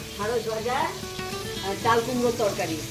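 Okra sizzles in a hot pan in a home kitchen with a steady, soft frying hiss and the occasional stirring scrape, all at close range.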